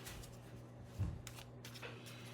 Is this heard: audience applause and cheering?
no